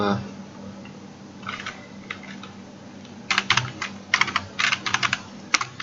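Keys clatter on a computer keyboard as code is typed, starting with sparse soft taps and building into quick bursts of close, crisp keystrokes.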